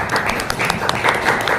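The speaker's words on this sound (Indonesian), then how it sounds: "Tepuk tangan untuk semua." Brief applause from a school audience at a positive-culture dissemination event, a steady close patter of many hands clapping without a break.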